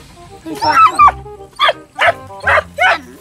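Several sharp barks from a native Vietnamese mixed-breed dog out on a snake hunt near Tuyên Quang, about five loud, close yaps in an uneven rhythm, with a brief stretch of talk at the start.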